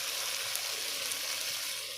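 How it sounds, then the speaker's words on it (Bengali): Spices frying in a pan for a jackfruit curry, a steady close sizzle with a broad crackling hiss throughout and faint stirring, no voices. "মশলাটা আমি আবার ভেজে নেব"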